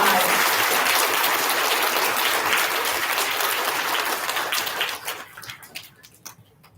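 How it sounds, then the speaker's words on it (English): Sustained audience applause for fifth grade award recipients at an elementary school recognition ceremony, steady clapping that thins out and fades into scattered claps near the end. "Let's give our fifth grade recipients a round of applause."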